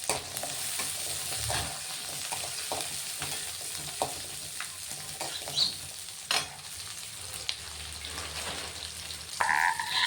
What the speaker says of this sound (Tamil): இப்போ வெங்காயம் நல்லா ப்ரௌன் கலர் ஆகிற வரைக்கும் நல்லா வணக்கிடலாங்க.